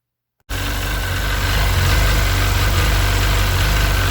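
A Seadoo 951 DI engine fed compressed air at 80 psi fires up abruptly after a brief silence, then runs loud, smooth and steady with a constant low rumble and vibration throughout.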